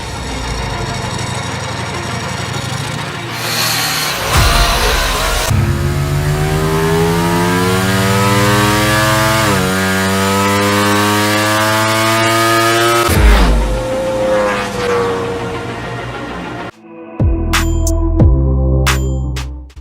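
A Ducati Diavel V4 RS motorcycle's V4 engine, rated 182 hp, revs and accelerates hard through repeated rising pulls with brief shift breaks, loud and close, then drops to a lumpy idle with sharp blips.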